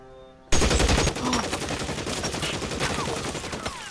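Gunfire in the L.A. Noire video game, a sudden burst of rapid, loud shots that erupts after a brief quiet stretch and keeps rattling on as a dense, close fusillade.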